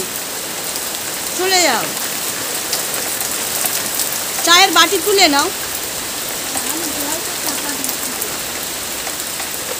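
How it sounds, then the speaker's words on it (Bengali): Heavy rain drums steadily on a surface outside a home, a dense continuous hiss close by, while someone speaks briefly over it. "বৃষ্টির আওয়াজ শুনে তোমরা নিশ্চয়ই বুঝতে পারছো কত বৃষ্টি হচ্ছে।"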